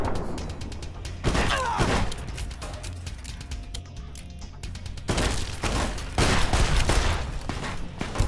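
Rapid gunfire in Fallout New Vegas, bursts of sharp shots fired in quick succession with brief pauses between volleys, loud and close throughout.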